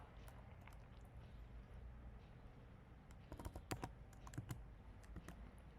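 Computer keyboard typing, first a few light taps and then a denser burst of clicks in the second half, quiet and close.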